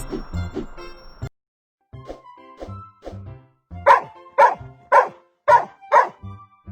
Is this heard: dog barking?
yes